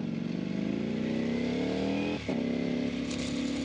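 A Ducati Panigale V4R superbike engine revs hard and rising, then shifts with a quick auto-blipper cut before climbing again, loud and close with no talking.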